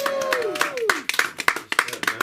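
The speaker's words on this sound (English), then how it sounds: "Give it up for Sam." Open mic comedy crowd applauding a comedian, brisk hand clapping from a small audience under a voice talking.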